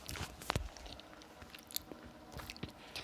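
Someone chews food close to the microphone, giving soft wet bites and squishy, crunchy mouth sounds in an irregular rhythm, with no talking.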